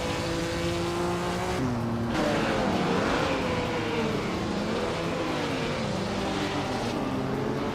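A 1952 Jaguar C-Type race car in a racing video game, its engine droning steadily with a pitch that rises and falls as it shifts gears and works through corners, loud and continuous without talk.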